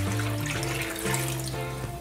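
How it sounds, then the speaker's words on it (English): Boiling water poured into a pan of lamb while making homemade gyros: a continuous, close pouring and splashing stream lasting about two seconds, alone without speech. "Supposed to add boiling water, and it should come up about halfway up the meat."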